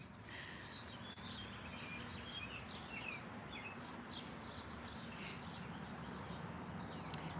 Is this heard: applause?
no